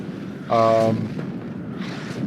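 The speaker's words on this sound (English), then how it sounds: "Artillery is hitting the backline stuff." Artillery shells land on rear positions in the video game WARNO, producing one short, loud, deep boom and then a quieter rumbling blast that fades behind a steady noise bed.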